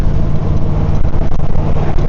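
A 1956 Ford Thunderbird with a 312 Y-block V8 on the road, its engine humming steadily and close with a low, even drone and slight swells as it cruises.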